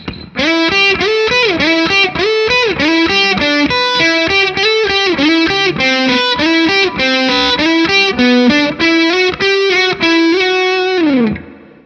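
Distorted electric guitar riff through a Fuzz Face-style fuzz pedal with a touch of reverb, middle pickup position, neck tone rolled down; loud, continuous chugging chords and bends for about eleven seconds, then a sudden stop with a brief decay.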